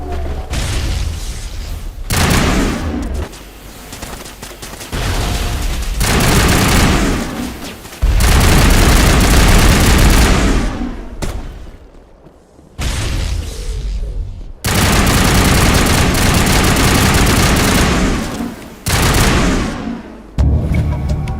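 Loud sustained crossfire in Mass Effect Legendary Edition on Virmire, with heavy bursts of gunfire and booming blasts coming in long dense stretches separated by brief lulls.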